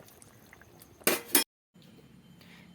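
Lid placed on a cooking pot of Bengali potol bora curry, two sharp metallic clanks close together, followed by a sudden silence, then faint kitchen background.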